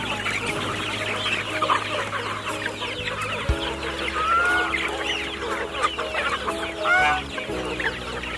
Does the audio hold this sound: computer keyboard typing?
no